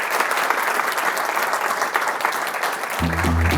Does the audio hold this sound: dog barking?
no